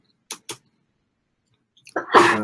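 A couple of faint clicks, then a single sharp, loud sneeze bursts out close by.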